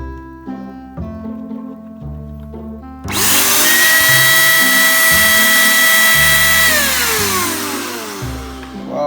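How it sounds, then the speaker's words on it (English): INGCO spray gun running and blowing air: loud, steady whine with rising motor tones that kicks in abruptly after a quiet musical opening and holds at full power before tapering slightly. "Wow, what a powerful blower there, you know?"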